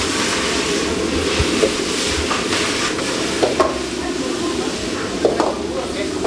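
Beijing beef stir-fries in a wok as Shaoxing wine is added, a steady sizzle with scraping stirs and occasional clanks, while a person talks over the cooking.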